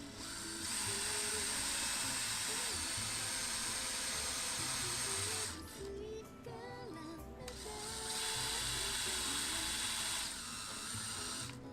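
A step drill bit bores and gouges out material in a homemade device build, a steady high-pitched whine running almost continuously, dropping away briefly midway before resuming at full strength.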